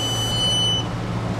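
A steady, high-pitched electronic low-battery warning beep on a sailing catamaran holds for under a second, then cuts off, leaving a low constant hum.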